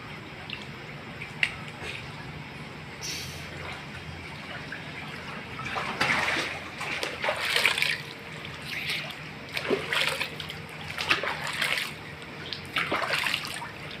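Water splashing and dribbling in bursts as a person washes their face in a swimming pool at night, with irregular close splashes and trickles over a quiet background, and a voice speaking briefly.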